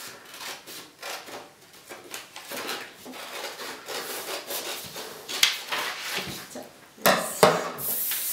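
Scissors cut through origami paper in a string of close, crisp snipping and rustling strokes, quiet and uneven, ending in a few louder paper crinkles.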